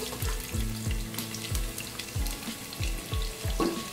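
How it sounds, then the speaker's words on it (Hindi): Two medium onions fry in hot oil for aloo gobi, with a close, steady sizzle punctuated by repeated rhythmic stirring knocks and scrapes of a spoon in the pan, and no voices. "ऑयल गर्म हो गया है, अब मैं इसमें प्याज डालूंगी।"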